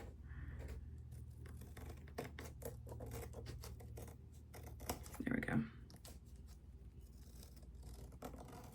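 Scissors trim excess paper off a handmade fan base, giving a run of quiet, rapid snips and crinkles at close range with a slightly louder cut in the middle.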